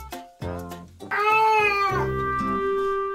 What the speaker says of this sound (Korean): 뚱한 시선이 매력적인 비오부터 혼자만의 시간을 보내고 있는 후추까지 냥이 2마리가 한 지붕 아래 살고 있습니다